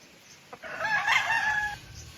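A single rooster crows once, close and loud, a drawn-out cock-a-doodle-doo rising and falling over a quiet background.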